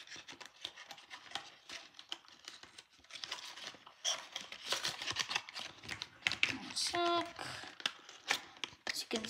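Crinkly snipping and rustling of scissors cutting through paper or packaging, close up, with soft handling noises between cuts.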